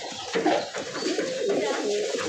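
Giribaz pigeons give soft, close, rolling coos in a brief continuous run, low and throaty, with no talk.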